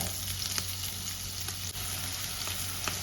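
Sliced shallots and drumstick flowers fry gently in ghee for soup, giving a faint, even sizzle with a few light taps of a spoon.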